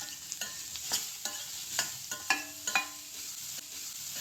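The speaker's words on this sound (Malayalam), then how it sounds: "അരിഞ്ഞു വെച്ച ബീറ്റ്റൂട്ട് ഇടുന്നു." Chopped beetroot sizzles in a pan while being stirred, a quiet crackling sizzle punctuated by sharp clinks and scrapes of a utensil against the pan at irregular intervals, no talking.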